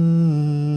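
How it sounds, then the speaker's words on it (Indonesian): A short sustained hum with a steady low pitch and a breathy, airy layer of noise over it, close and alone, with a slight pitch drop partway through. "Ada bunyi udara di atas hummingnya."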